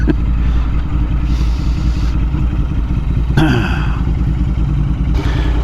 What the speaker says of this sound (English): Yeah, the parallel twins do have a nice sound to them.